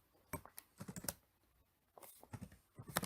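Watermark text is typed on a computer keyboard, two short bursts of quiet, close key clicks separated by a silent gap.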